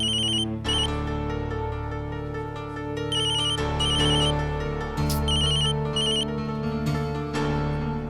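A phone ringtone plays loudly and close, a repeating electronic melody with bright chiming notes cycling steadily, no voices.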